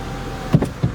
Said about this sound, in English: there you go, windows are up